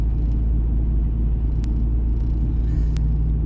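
Warmed-up car engine idling in cold weather, a steady low rumble heard from close by, continuous and unchanging, with a few faint clicks on top.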